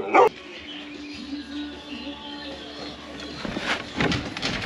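A dog in a woodworking workshop gives one short, loud bark at the start, followed by quieter whining and shuffling noises in the room.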